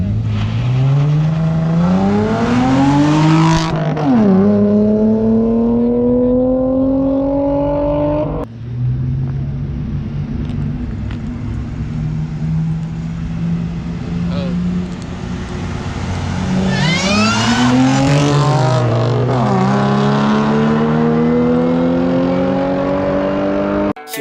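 Supercharged Chevrolet Cobalt SS accelerating hard, engine revving and climbing in pitch through gear shifts, a brief drop between pulls and another strong run, loud and close with no talking.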